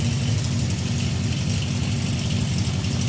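A 1977 Honda CB400F air-cooled four-cylinder motorcycle engine idles steadily at about 1,200 rpm during carburetor synchronization, a loud even low rumble close to the machine.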